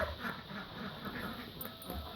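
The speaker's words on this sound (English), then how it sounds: "Let's go look at these ducks. Noisy ducks." Noisy ducks at a farm colony quack continuously at a moderate distance, a steady chattering chorus over outdoor background noise without clear speech.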